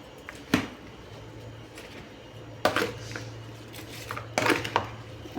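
A spoon mixes spices into a homemade masala pickle in a metal vessel, with three or four sharp clinks and scrapes spaced apart over a quiet background.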